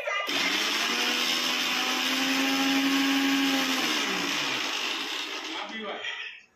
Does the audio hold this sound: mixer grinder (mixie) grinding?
yes